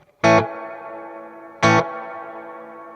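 Two loud distorted guitar chord stabs through a Sonicake Pocketmaster spring reverb with the decay turned up, each clipped hit leaving a long ringing, slowly fading reverb tail.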